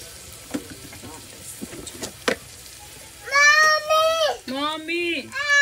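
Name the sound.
garlic frying in a clay pot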